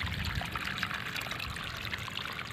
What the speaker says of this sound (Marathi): हे बघा मित्रांनो तिथं मोटर आणि इथून आउटलेटमधनं पाणी चाललं आहे आपलं